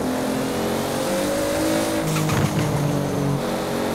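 Loud, continuous engine roar of a Toyota Supra accelerating in Forza Horizon, pitch rising through the gears with a short burst of tire squeal partway through.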